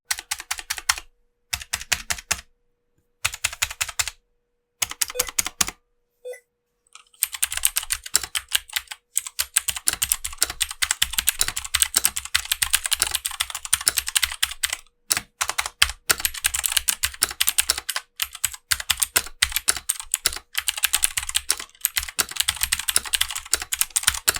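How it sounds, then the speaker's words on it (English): A budget Rakk DIWA mechanical keyboard with Otemo blue switches is typed on in bursts, sharp clicky keystrokes in quick runs separated by brief pauses, close and loud, then a long steady stretch of typing with no voices. "Here's the sound test using the Otemo blue switch."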